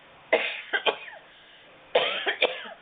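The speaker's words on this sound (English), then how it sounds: "I'm going to cough again" Two bursts of coughing, each a sharp hack followed by a couple of quicker coughs, close and loud, separated by a short silence.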